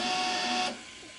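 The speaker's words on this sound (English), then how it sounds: "that was the printer stopping you from going up any further" A UV print head on a RefineColor Hosons printer stops at its top height limit, a steady whirring motor drone that cuts off abruptly, leaving a faint lower hum.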